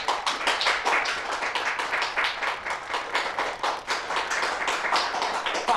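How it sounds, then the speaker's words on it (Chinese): An audience clapping at a storytelling stage event, dense and sustained applause that stays loud and close throughout with no voices over it. "大伙儿都别鼓掌"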